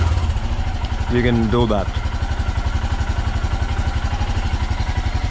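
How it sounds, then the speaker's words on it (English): A Royal Enfield Himalayan motorcycle engine idles after a valve clearance check and adjustment, a loud, steady, even low thumping throughout, with someone speaking briefly over it near the start. "that's how the motor sounds. About 10-12 seconds of idling"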